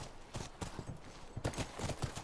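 Horse hooves clip-clop in an even walking rhythm in the video game The Last of Us, close and moderately loud with no talking over them.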